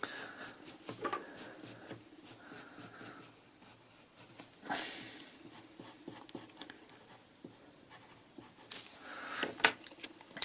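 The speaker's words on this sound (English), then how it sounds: "using a pencil, I'm going to sketch in the shape of this e to the x graph" A pencil sketching a graph on paper makes soft, scratchy strokes in irregular bursts, close and quiet, with occasional brief pauses between the lines.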